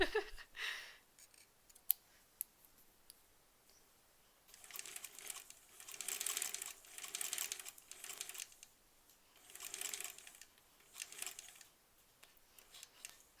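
Scissors snip through fabric pieces for a quilt block: a quiet start, then a run of rhythmic, close, crisp cuts repeating every second or so, with no talk.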